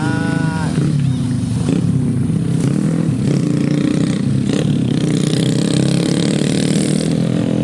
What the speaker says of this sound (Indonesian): jadi agak terlalu terganggu sama suara motor juga ya. Suara lalu lalang